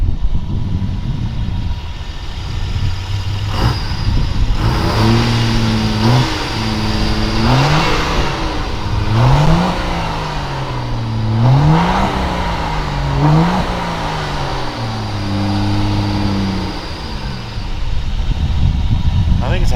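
A race car engine with a small turbo, in a race-week setting, is revved repeatedly in a series of rising and falling surges over a rough idle, loud and close, with people talking nearby.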